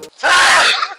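A single loud, sharp sneeze bursting out after a brief breath, lasting about half a second before trailing off.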